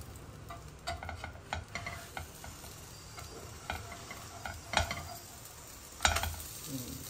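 A stuffed moringa egg paratha made with whole wheat flour and ghee fries faintly on a pan with a low, steady sizzle. Scattered soft taps and clatters sound as it is flipped.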